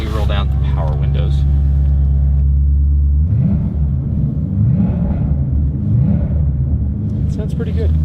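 A 1950 Dodge Wayfarer's engine idles with a deep, steady low rumble close by, briefly shifting in tone partway through, while people talk over it.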